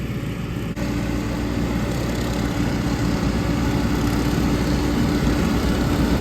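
A tractor mowing a pasture with a bush hog draws near, its steady low engine drone and rotary cutter roar continuous and loud throughout, with no talk.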